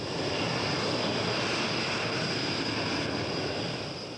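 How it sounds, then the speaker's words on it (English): A SEPECAT Jaguar jet racing past very low and fast at about 450 knots, a loud continuous broadband roar with a high whine that stays constant for several seconds. "the Jaguar is flying very low and very fast"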